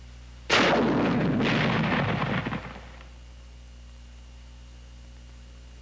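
A bazooka rocket launcher fires with one loud, close blast followed by a second roaring burst, the rumble trailing off over about two seconds into quiet.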